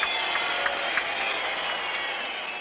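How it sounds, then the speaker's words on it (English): A tennis crowd at the 1984 French Open men's final applauding and cheering, a dense, loud wash of clapping that tapers slightly toward the end. "And the crowd reacts."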